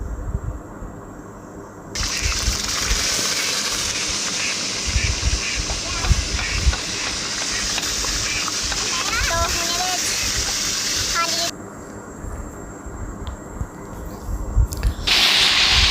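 Water poured into hot mustard oil for a tadka with turmeric, red chilli and salt, in an outdoor village kitchen in Punjab, Pakistan, hisses and sizzles loudly and steadily, close by, with brief quieter gaps.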